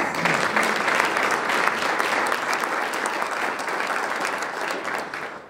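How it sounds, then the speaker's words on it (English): Guests at a chamber of commerce luncheon give a sponsor a hearty round of applause, dense and continuous before slowly tapering off, with no talking over it. "Our silver sponsor is Magic City Enterprises. A round of applause."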